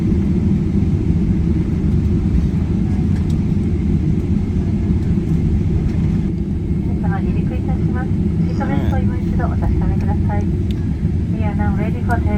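Inside the cabin of an ANA Boeing 777 before takeoff, a deep, continuous engine and air rumble fills the space while a voice announces over the PA.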